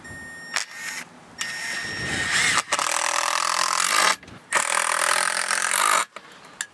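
Power drill driving screws into wood down pre-drilled holes: several loud whirring bursts in a row, separated by brief pauses, close up.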